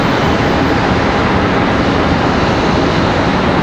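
A Delta Embraer E175 regional jet operated by Republic Airways landing at Charlotte Douglas International Airport, its engines a loud, steady, broadband roar filling the air close by with no break.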